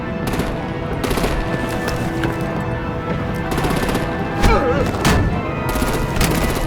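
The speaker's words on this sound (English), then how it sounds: "Break out the artillery and disable their vehicles!" Rapid automatic gunfire and artillery blasts crash through a battle scene in the video game Batman: The Enemy Within, with dense sustained bursts and a few heavier booms, loud and close, with almost no talking.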